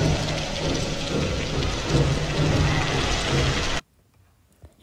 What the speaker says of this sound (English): That's a freezing sound.